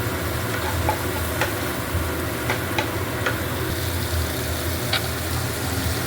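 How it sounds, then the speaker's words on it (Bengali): Dried red chillies with coriander powder and spices fry slowly on low heat for dal fry, giving a steady soft sizzle with a low background hum and a few faint ticks of stirring. "শুকনো লঙ্কাগুলো এবার এই সমস্ত জিনিসগুলোকে ভালো করে কিন্তু ধিমে আছে একটু ভেজে নিতে হবে"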